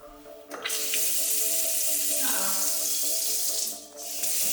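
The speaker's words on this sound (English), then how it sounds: "The water still works." A kitchen faucet runs in an empty modern house, a loud, steady rush of water splashing into a sink that briefly dips near the end before surging again, close and continuous, with faint speech underneath.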